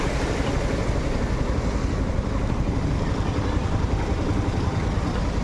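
A motorcycle pushes through deep flood water on a rain-swamped road, a constant broadband rush of churning water, engine drone and wind buffeting the microphone, steady and close throughout.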